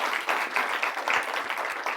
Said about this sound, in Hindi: इनके लिए भी ताली हो जाए